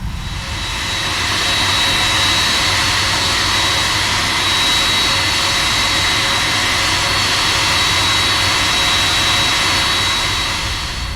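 Simulated jet engines of a Flight Factor Boeing 767-300 taxiing in X-Plane 11, a loud, steady whine and rumble holding constant for over ten seconds, alone without talk.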